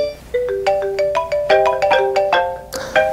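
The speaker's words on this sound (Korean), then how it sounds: "벨소리가 울리면 앙대야!" A cheerful mobile phone ringtone plays a bright, bouncy melody of plucked electronic notes, loud and close, with no voices, at a concert.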